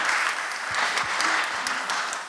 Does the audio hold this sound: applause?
yes